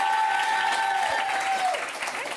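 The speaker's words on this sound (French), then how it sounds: "On peut l'applaudir." Studio audience applause on a French TV entertainment show, a dense steady burst of clapping filling the whole moment, fairly loud and close, with faint voices mixed underneath.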